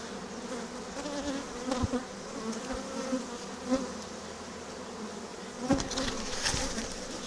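Steady buzzing of honeybees swarming close by at a hive during a queen introduction with a push-in cage, with a few louder passes and thumps as insects fly near.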